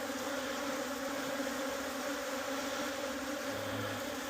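Honey bees drone in a dense, continuous buzz at a hive, steady and close, with no voices.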